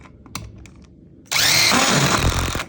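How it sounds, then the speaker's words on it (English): A few faint taps, then a power drill whirs loudly for over a second as it drives a screw into wood, its pitch shifting as it drives in before winding down. "Toronto and Liam Cody, we later screwed all the pieces together."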